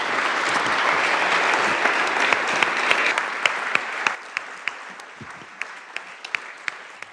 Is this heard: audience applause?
yes